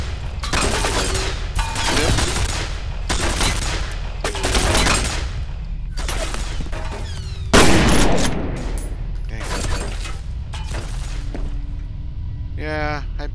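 Repeated loud bursts of gunfire in the shooter game F.E.A.R., heavy automatic volleys with rumbling impacts, a voice speaking between the shots.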